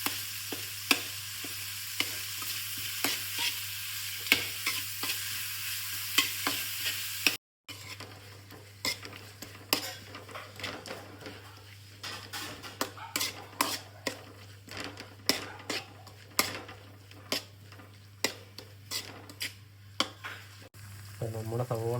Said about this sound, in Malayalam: സവോള വഴണ്ടി കിട്ടാൻ ആവശ്യത്തിന് ഉപ്പ് കൂട്ടി ഇളകാണ്. അതിനെ ഒന്ന് വഴറ്റിയെടുക്കണം.